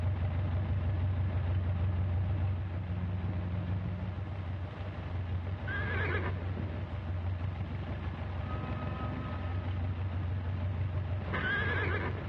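A horse neighs twice, loud, high whinnies at about six and eleven seconds, over a steady low engine-like hum on a rigged vessel.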